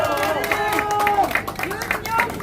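Audience at a Korean political rally report breaks into applause, a dense patter of clapping that carries from start to finish, mixed with cheers and scattered voices.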